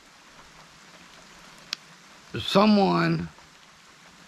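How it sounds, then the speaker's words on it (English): Steady rain falls outside as a soft, even hiss in the background, with one faint tick partway through and a short burst of a man's speech near the end. "but it is actually raining."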